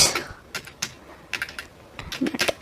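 Keystrokes on a computer keyboard while entering Excel formulas, tapping out in irregular short bursts with pauses between, close and fairly quiet.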